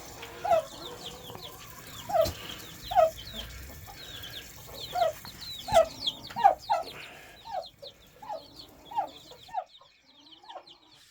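Chickens cluck in short, repeated bursts while running to fresh water and feed, several birds calling close by at an uneven rhythm with no one talking.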